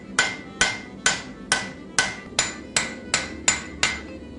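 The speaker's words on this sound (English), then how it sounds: "I carefully insert the drift, not to make the eye larger, but to shape it" A hammer strikes a drift set in the eye of a forged Viking axe, nine sharp metallic blows at a steady, even pace, each ringing briefly before the next.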